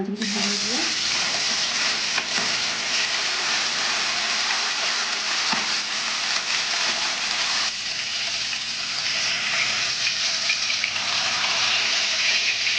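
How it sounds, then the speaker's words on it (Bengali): Pomfret fish coated in oil sizzle in hot oil in a pan, a loud, dense, continuous crackle with no break and no voices. "তেলটা গরম হয়ে গেছে এবার আমি মাছগুলো ছেড়ে নেবো"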